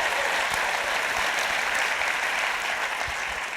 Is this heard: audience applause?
yes